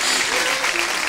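Studio audience applause at a talk show taping, a steady wash of clapping held at even loudness through a short stretch, with a faint voice underneath.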